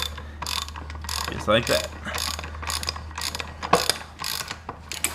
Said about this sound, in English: As you can see, you tighten it down and it'll push it through